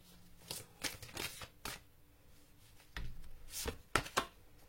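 Tarot cards are shuffled and handled close up in a series of quiet separate riffles and soft slaps, bunched in short bursts with gaps between them and no voices.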